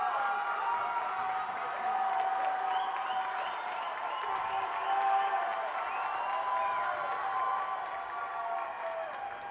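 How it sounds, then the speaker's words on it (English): Girls' high school hockey playoff fans in an arena cheering and applauding, a sustained crowd roar with scattered whoops and clapping, somewhat distant and steady throughout. "Laker fans rightfully excited"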